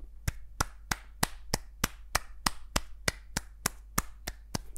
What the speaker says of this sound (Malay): tapi bila saya tepuk tangan dekat depan dia,